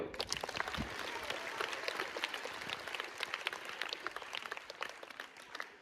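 An audience at a school gathering claps steadily together, a dense patter of many hands that sounds moderately distant and fairly faint, lasting several seconds with no talk over it.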